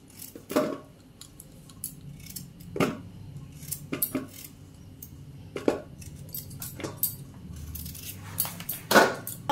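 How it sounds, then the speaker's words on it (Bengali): A knife cuts potatoes into large pieces in a village kitchen: sharp, separate chops and clinks land at irregular intervals, fairly close, with quiet handling noise between them and no talking. "এবার আলুটা কেটে নিচ্ছি বড় বড় পিস করে"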